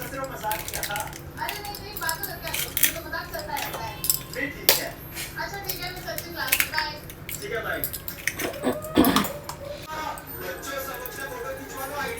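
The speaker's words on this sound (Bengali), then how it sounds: "ডিম ফ্যাটার জন্য জানো তো ফ্রেন্ডস এই কাঁটা চামচগুলো খুব সুবিধা হয়, ইজিভাবে হয়ে যায়।" Rapid clinking and scraping of a fork whisking eggs for anda bhurji in a home kitchen, steady metallic taps against a bowl with a television and household voices murmuring in the background.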